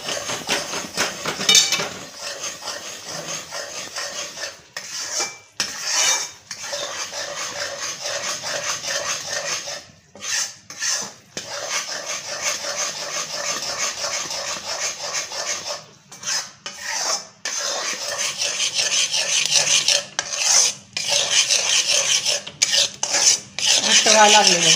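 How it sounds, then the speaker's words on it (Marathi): A spoon scrapes and rasps steadily against a pan as moong dal barfi mixture is stirred continuously off the heat, with close, repetitive metallic strokes broken by brief pauses. "हलवत राहायचं आहे एकसारखं."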